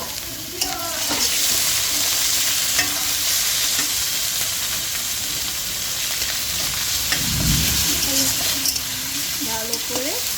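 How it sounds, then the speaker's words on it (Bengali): Ground spice paste of ginger, cumin and garlic fries and sizzles steadily in a pan while being stirred for Bengali nihari, with occasional scraping clinks of the spoon and no talking. "ভালো করে এটাকে নাড়িয়ে মাছ মশলাটাকে ভালো করে কষাতে হবে।"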